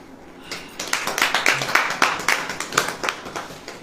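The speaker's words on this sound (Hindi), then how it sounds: "ताली बजाइए।" A congregation at a Hindi church sermon claps hands together in a steady, quick rhythm, many hands sounding fairly loud and close, building from a softer start into even, repeated beats.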